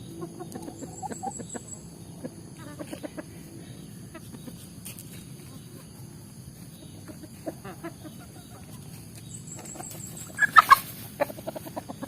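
Free-range village chickens cluck faintly and sporadically over quiet ambience, building to a sharper burst of louder clucks near the end.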